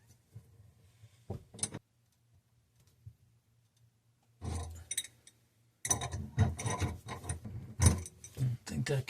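A fitting being hand-tightened with its washer on a VonWater 600G under-sink reverse osmosis water system gives close, dry clicking and scraping in three short bursts, the last one longest and busiest.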